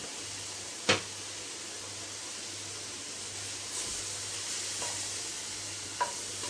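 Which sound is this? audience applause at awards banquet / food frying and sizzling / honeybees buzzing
food frying and sizzling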